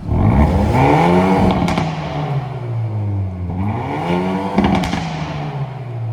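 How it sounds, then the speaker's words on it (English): A 2024 Hyundai i30N hot hatch revs its exhaust twice, the engine note climbing and falling in loud close sweeps with crackling pops as each rev drops off. "this one by far is the best sounding exhaust"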